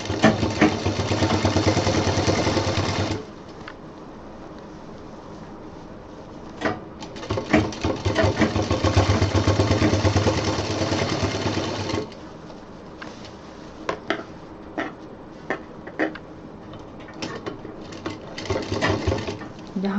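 Sewing machine stitching piping onto a large baby diaper bag, running in loud steady bursts with pauses between and clicks of fabric handling.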